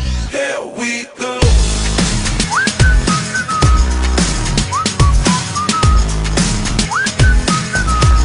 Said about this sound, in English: Can you blow my whistle, baby